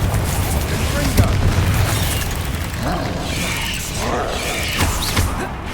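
Spell explosions from Bombarda and Confringo going off in Hogwarts Legacy, a dense wash of booms, bursts and crackling combat effects running the whole time with voices shouting spell names over the din.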